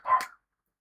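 A dog indoors gives a single short, sharp bark that cuts off into silence, fairly faint and heard alone.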